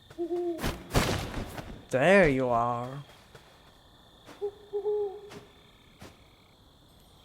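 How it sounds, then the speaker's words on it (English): Owl in the video game Death's Door hooting twice in low, clear notes, first at the start and again after a few seconds, with a loud game hit and a voice speaking between the calls. "Pothead accidentally brought me to the owl"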